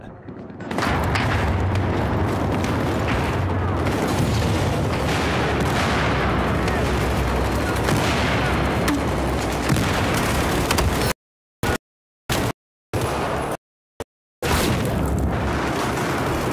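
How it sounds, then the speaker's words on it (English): Grenade blasts and gunfire roar almost without pause in a Battlefield 4 multiplayer match on a Shanghai map, dense and loud, then cut into short choppy bursts near the end. "I'm throwing grenades like right, left and centre and I'm firing people, killing everyone"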